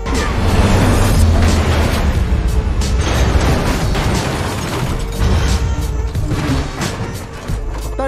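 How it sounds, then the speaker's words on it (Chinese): A violent film action scene: a car swerves and crashes amid gunfire, with loud, dense booming impacts and bursts running continuously throughout. "拿出枪连连射击，最终一个甩尾把两人的车给撞飞了"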